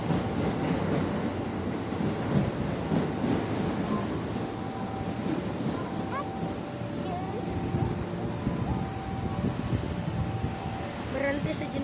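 Interior of a KRL commuter train in Jakarta riding along, with a steady loud rumble of wheels and car noise throughout, faint tonal whines from the train, and indistinct voices of passengers underneath.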